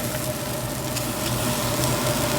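Gravy for chicken fried steak stirred in a hot pan, a constant loud bubbling sizzle with faint scraping strokes and no one speaking.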